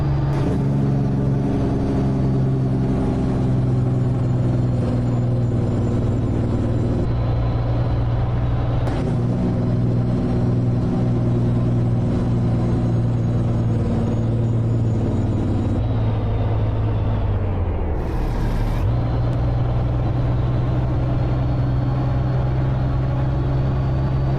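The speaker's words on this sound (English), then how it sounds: "We'll listen to the Jake brake going down." Jake brake on a truck rolling downhill in American Truck Simulator, a loud steady low engine drone with a constant rumbling growl, pitch shifting slightly at a few points and dropping briefly near the end.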